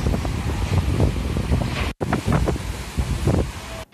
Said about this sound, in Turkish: kentte ara ara önce kuvvetli rüzgar, ardından da kısa süreli fırtına etkisini gösterdi